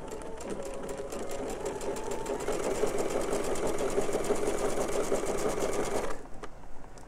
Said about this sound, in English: you are going to sew towards this corner, just on the other side of the line